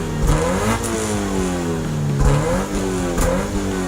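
A car engine revs hard in a few loud, rising bursts of acceleration, the pitch climbing and falling between throttle blips, close and alone with no talk.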